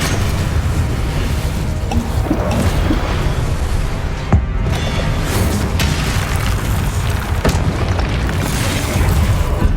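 A dense, loud roar of fire and blasts erupts from a fire-casting spell in the Hogwarts Legacy game, filling the scene continuously with a few sharp cracks and pops breaking through.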